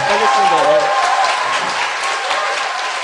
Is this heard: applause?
yes